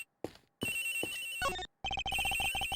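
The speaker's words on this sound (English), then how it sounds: "The ringing is coming from somewhere in here, sir." A cell phone rings in the Ace Attorney Investigations video game: a synthesized ringtone melody plays loudly in bursts with brief silent gaps, then repeats as a rapid pulsing chime, with no talk.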